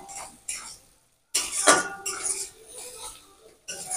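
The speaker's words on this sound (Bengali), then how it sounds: "একটু নেড়ে চেড়ে মিশিয়ে নিলাম।" A spatula scrapes and clinks against a pan while fried potatoes are stirred into cooked spices, in short irregular bursts with quiet gaps between them.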